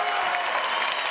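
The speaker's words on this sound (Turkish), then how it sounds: "alkışlar durmasın" A studio audience claps through a Turkish television talk show, a bright, even roar of applause that holds steady and fairly loud from start to finish without breaks.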